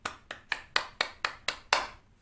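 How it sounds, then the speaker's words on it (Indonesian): A classroom group claps for a student in a crisp, rhythmic pattern of about seven sharp, evenly spaced claps, loud and close, ending with one slightly heavier clap. "Kita beri tepuk tangan dulu ya buat temannya yang udah berani maju ke depan."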